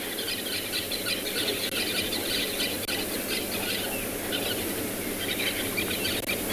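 Dense, continuous chorus of squealing, chattering calls from a flock of buffalo weaver birds at sunrise, steady throughout with a low background hum.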